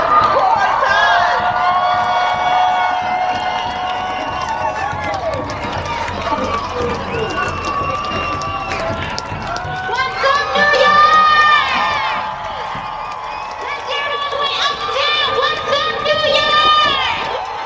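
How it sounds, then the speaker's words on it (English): A large crowd at a New York City march to end fossil fuels cheers, whoops and shouts loudly and continuously, swelling in bursts of excitement as Alexandria Ocasio-Cortez is introduced. "Make some noise for Alexandria Ocasio-Cortez!"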